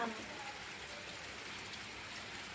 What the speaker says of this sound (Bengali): দেখছো কেমন বৃষ্টি হচ্ছে দেখো